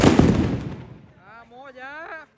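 Diwali firecrackers burst in a village celebration: one sharp, loud bang decaying over about a second, followed by a voice calling out.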